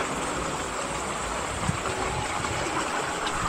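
Water from a spring beside a rural river flows steadily in a close, continuous rush, like a small stream, with no voices.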